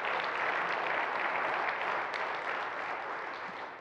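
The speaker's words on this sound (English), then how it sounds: "Let's give those businesses a round of applause in our chamber" A chamber audience at a township event applauds, steady dense clapping filling the room and slowly tapering off toward the end.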